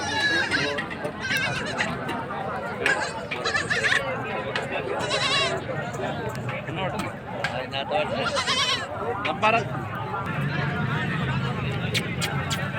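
Goats and kids at a livestock market in Hyderabad bleat repeatedly over a constant crowd murmur, with several loud cries close by and others farther off, while people talk nearby.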